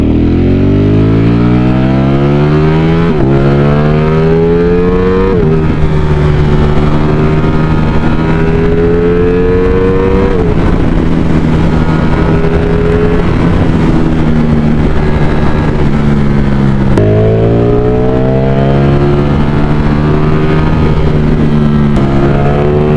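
A Ducati Streetfighter V4 motorcycle engine accelerates hard through several gears, each rising howl broken by a quick shift, loud and close throughout with no talking.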